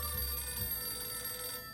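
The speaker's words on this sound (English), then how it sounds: "Oh, we got a phone." A telephone rings in the survival video game 60 Seconds, a faint, steady electronic bell tone that holds for just under two seconds before cutting off, heard alone without talk.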